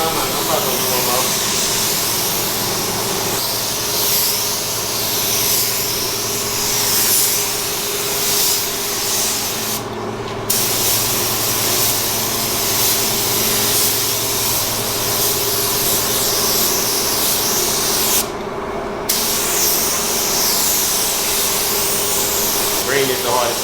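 A paint spray gun hisses steadily while green paint goes onto a truck, a broad airy spray with brief sharper bursts, and voices talk over it now and then.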